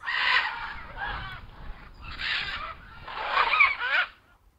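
Hungry macaws call in a forest, harsh raspy squawks in several loud bursts with short pauses between, fairly close.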